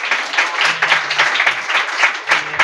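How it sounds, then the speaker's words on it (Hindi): A church congregation clapping in praise at a Hindi Bible service, rhythmic group handclaps in a steady beat, close and fairly loud, with faint voices under them. "जोर से ताली बजाकर प्रभु की महिमा करेंगे"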